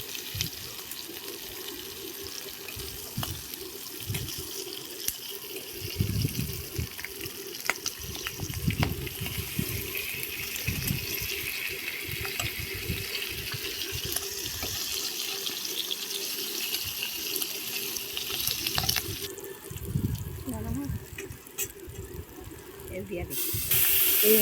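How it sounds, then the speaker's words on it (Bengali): Rohu fish heads frying in hot oil, giving a continuous hissing sizzle with occasional pops and spatula scrapes, and a voice talking at times over the cooking. "মাথাগুলোকে আমি ভালো করে ভেজে নিচ্ছি"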